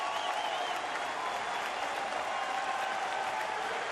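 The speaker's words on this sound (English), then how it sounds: "Here comes the crowd now with 2 strikes." Baseball crowd at a Detroit Tigers game in 2009 roaring and applauding with two strikes on the batter, a dense, steady wash of cheering from a large stadium audience, heard from a distance throughout.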